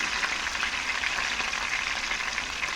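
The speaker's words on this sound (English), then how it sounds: "I'm just gonna fry 3 pieces at a time" Fish pieces for Jamaican escovitch fry in hot oil in a pot, giving a steady, dense, close sizzling hiss that holds evenly throughout with no talking.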